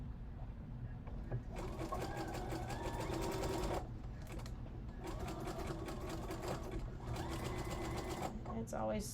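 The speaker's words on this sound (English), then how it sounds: "I'm going to sew over it one more time with a zigzag" A sewing machine runs a zigzag stitch back over a fabric seam joint, its rapid mechanical whir coming in long continuous bursts with brief pauses between them, close and steady.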